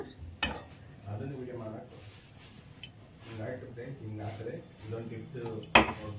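Spoon scraping and clanking in a pan as laddu mixture is stirred with ghee, a couple of sharp metallic knocks amid softer scraping, under a voice talking throughout.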